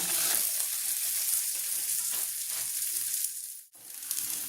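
A sabudana thalipeeth set onto an oiled pan sizzles loudly and steadily, a continuous close frying hiss that dips briefly near the end and then resumes.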